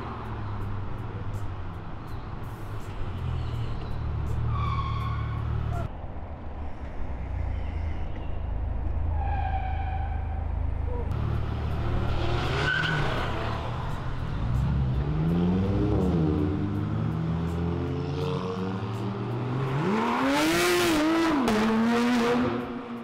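A Porsche GT3 RS engine roars and revs hard, rising and falling in pitch as it accelerates, loud and close, with a sharp high-revving burst near the end.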